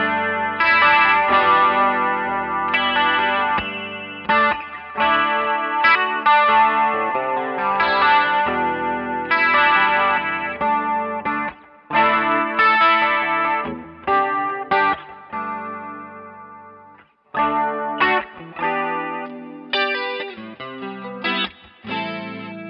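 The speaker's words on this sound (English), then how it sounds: "Let's hear the Boss Ce2 so get an idea of what legendary chorus sounds like" An electric guitar through a Boss CE-2 chorus pedal set at noon plays shimmering chords and picked phrases with brief pauses between them, loud and close, with no talking.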